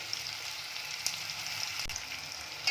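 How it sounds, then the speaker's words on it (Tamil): Raw banana (vazhakkai) pieces frying in oil in a pan, a steady, moderately quiet sizzling hiss with a couple of small crackles and pops, no voices. "கொஞ்ச நேரம் அப்படியே விட்டுருங்க, எண்ணெயில் ஃப்ரை ஆகட்டும்"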